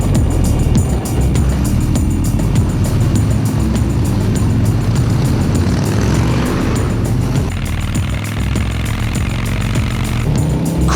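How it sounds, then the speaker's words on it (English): Custom-built motorcycles ridden at full throttle on a long Texas highway run, a loud, continuous engine roar with shifting pitch and rumble filling the whole stretch, no talk. "Cool bikes, full throttle,"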